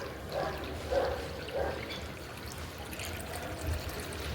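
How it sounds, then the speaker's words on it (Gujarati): Cold water is poured into a bowl set out for pigeons, making a soft continuous trickling pour that is close and moderately quiet, with faint outdoor background. "તો મસ્ત એવું આખું જો ભરી દીધું છે ઠંડુ ઠંડુ પાણી."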